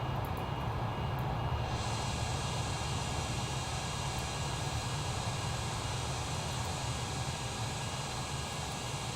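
An airliner's engines drone steadily in cruise flight in Microsoft Flight Simulator 2020, a constant broad roaring hiss with no change over the whole stretch.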